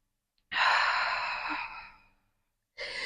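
A long, deep, audible exhale through the mouth during a beginner Pilates mat workout, close and breathy, tapering off over about a second and a half before another breath begins.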